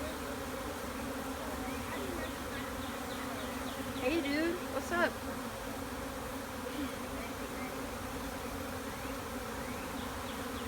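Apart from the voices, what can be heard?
bee swarm buzzing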